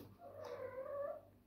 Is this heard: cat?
yes